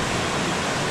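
Steady, loud roar of a desert waterfall close by, a dense continuous rushing wash with no gaps and no voices.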